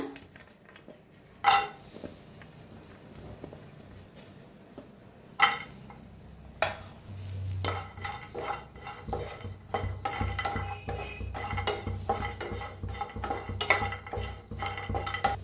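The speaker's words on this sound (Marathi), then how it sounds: "आता ह्याच्यातच घेऊया खोबरं भाजून" Coconut being dry roasted in a pan on the stove while cooking a spicy potato curry, heard as steady scraping and stirring with clinks of a utensil against the pan, soft sizzling underneath and a couple of louder knocks early on.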